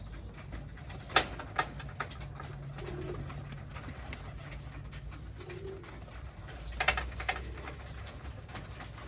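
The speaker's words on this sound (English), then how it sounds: "as you guys can hear, some of the birds are already eating" Birmingham Roller pigeons in their loft give a few soft low coos amid faint pecking and tapping as they eat, with occasional sharper clicks and rustles against a steady background hum.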